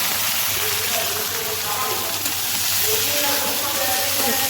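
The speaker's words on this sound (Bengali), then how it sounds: "শুটকিটাকে আমি তেলে ভেজে নিচ্ছি।" Dried fish shutki fries in hot oil with fried onion and garlic, giving a steady, close sizzling hiss that holds evenly throughout, with faint crackles over it.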